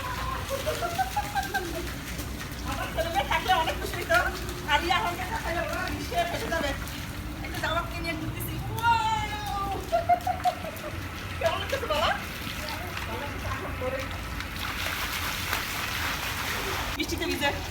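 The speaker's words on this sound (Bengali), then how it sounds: "টিনের বৃষ্টির ফোটার আওয়াজটা কেমন হচ্ছে সেটা একটু নেওয়ার চেষ্টা করতেছি।" Raindrops fall on a tin roof in a steady, hissing patter that carries through the whole stretch, with birds chirping now and then and some voices nearby.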